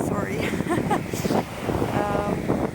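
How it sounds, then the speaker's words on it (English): Wind buffets a microphone outdoors, giving a steady, loud low rumble and gusty broadband rush through the whole stretch, with a muffled voice faintly present underneath. "oh, it's quite windy, sorry."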